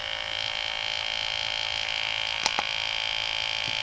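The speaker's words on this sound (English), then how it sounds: "can you hear it? The pump is working." Small pump of a solar-powered garden watering gadget running with a steady faint hum, a couple of brief clicks partway through, no talking.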